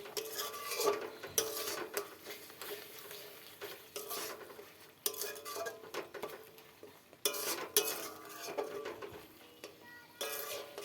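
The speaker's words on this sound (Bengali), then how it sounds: "খিচুড়িতে এই মশলাটা দেবো বলে ভালো করে কষিয়ে নিচ্ছি" Spice masala being stir-fried in a pan for khichuri, a spoon scraping and clinking against the pan in irregular bursts over a soft sizzle, close and fairly quiet.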